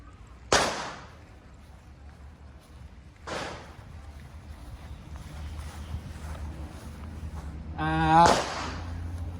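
A Benelli M2 shotgun fires outdoors in a few loud, sharp, close blasts spaced several seconds apart, each with a short decaying tail, over steady wind noise.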